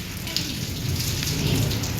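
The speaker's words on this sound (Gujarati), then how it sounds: "કેવો અવાજ ગાજે સાંભળ્યો તમે જોવો" Heavy rain pours steadily during a village storm that followed a windy dust squall, a dense close hiss with a low thunder rumble rolling underneath.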